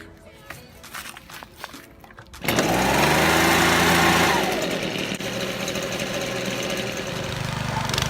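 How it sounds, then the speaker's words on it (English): A small garden tiller engine catches after a few pulls and quiet handling sounds, then roars steadily close by, dropping slightly from its first high rev to a constant running drone. "I thought this was going to be easy tilling because I have a machine"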